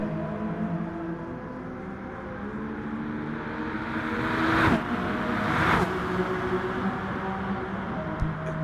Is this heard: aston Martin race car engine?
yes